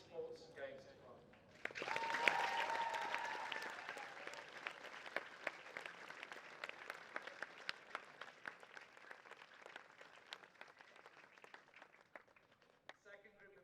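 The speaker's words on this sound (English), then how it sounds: "So a big round of applause for all the Sports and Games Department." A round of applause at Brighton College's athletics day, for the school's Sports and Games Department, swells quickly and holds as dense, sustained clapping from a large outdoor crowd for about ten seconds before tapering off.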